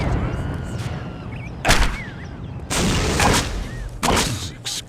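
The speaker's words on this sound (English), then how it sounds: "Seeking rocket activated" Seeking rocket firing in the Postal 2 video game: several loud, close bursts of blast noise break through a rumbling background, each lasting a fraction of a second to over a second.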